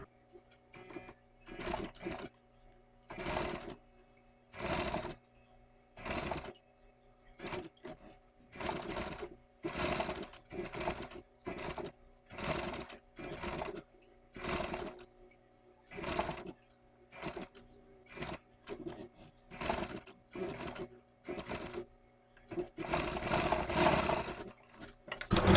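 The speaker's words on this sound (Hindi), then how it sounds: "बिल्कुल किनार की सिलाई चलाइए।" A sewing machine stitching along the edge of a net-fabric blouse runs in a string of short close bursts of rapid whirring, pausing briefly between runs as the cloth is guided, with no talk over it.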